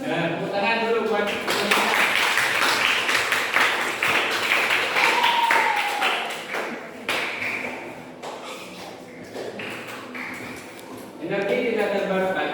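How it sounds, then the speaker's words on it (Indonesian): Students in a junior high school classroom clap their hands in a lively, scattered burst that runs under and between a teacher's speech, with a second short round near the end. "tepuk tangan dulu buat"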